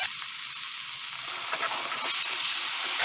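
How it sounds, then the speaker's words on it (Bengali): Soy sauce hits a hot frying pan while cooking chilli katori, making a loud, continuous bright hiss that holds for a few seconds and swells slightly toward the end, with no voices. "এখন আমি সয়া সস দেবো"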